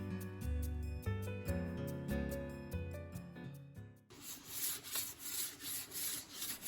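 A goosefoot root shaped for a walking stick is rubbed with sandpaper, giving a steady, close scratchy rubbing in the last few seconds. Tonal, music-like notes play before it.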